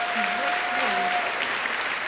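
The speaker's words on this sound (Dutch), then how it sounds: "Ja, geef hem nogmaals een keihard applaus" An audience at the Gouden Kalf film awards applauds the winner of best long documentary in a dense, loud, unbroken wash of clapping, with a voice faintly audible beneath.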